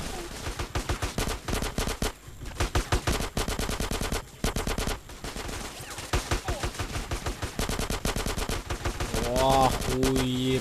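Loud automatic gunfire from the video game GTA San Andreas, final mission. Rapid, dense bursts of shots come almost without a break and pause only briefly, with a short voice near the end.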